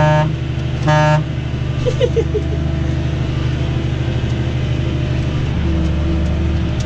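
A tractor horn sounds during winter plowing in a field: two short, loud honks near the start, over the steady rumble of the tractor's engine.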